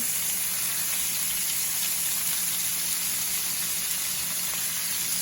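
Chicken and fixings for Jamaican brown stew chicken sizzle in a pot on a stove turned to high, a steady loud hiss of frying that holds constant throughout with no talk.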